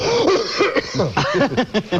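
A voice imitates a burst of coughing, several rough, choppy coughs and throat noises in quick succession, close and fairly loud.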